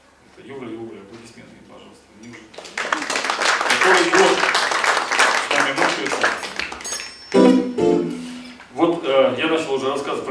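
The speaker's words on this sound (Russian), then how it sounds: "Юра, аплодисменты, пожалуйста" An audience at a talk about the T-34 tank bursts into applause after a spoken introduction. Scattered clapping rises for several seconds, with a voice speaking before and after it.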